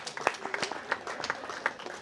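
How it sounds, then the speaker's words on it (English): A fairly faint, short burst of scattered audience clapping at a disability pride event, with uneven individual claps and light background voices. "Big round of applause to the families who help support their children all the time"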